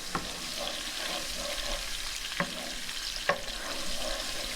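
Garlic and crushed red pepper fry in oil, a steady broadband crackling sizzle with a few sharp clicks of a spoon against the pan, close and moderately loud with no voices.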